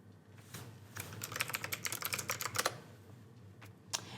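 Rapid keystrokes on a computer keyboard while a scene name is entered, a close burst of clicky taps in quick irregular rhythm, then a pause and one last isolated key press.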